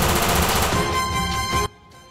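Rapid bursts of gunfire in a shootout, loud and close, crackling continuously for over a second before cutting off sharply.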